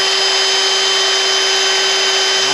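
A power drill fitted with a brand-new bit bores into metal, giving a loud, steady whine with a constant tone that holds unbroken and alone.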